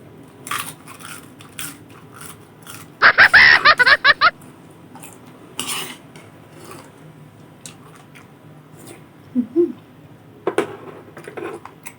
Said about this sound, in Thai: ผักเคี้ยวกรอบ